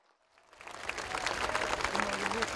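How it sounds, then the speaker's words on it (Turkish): A crowd at an outdoor CHP political rally in Balıkesir breaks into applause that swells from near silence into a loud, sustained clapping roar. "Gökçeyazı köylülerini, Türkmen Dağı köylülerini bir alkışlayalım"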